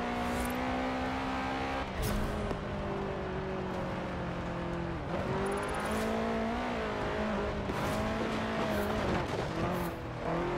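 A car drifts on gravel in Forza Horizon 4, its engine droning and revving steadily with tyre scrabble and skids, loud and continuous throughout.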